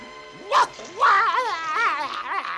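A cartoon dog gives a short bark, then a string of whiny, yelping barks and whimpers, close and loud.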